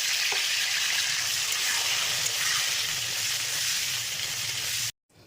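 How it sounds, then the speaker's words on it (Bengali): Chicken balls fry in refined oil in a wok, a loud, close, continuous sizzle that holds steady and then cuts off abruptly near the end. "কড়াইয়ে রিফাইন অয়েল দিয়ে দিয়েছি, এইবারে চিকেন বলগুলো ভেজে নেবো"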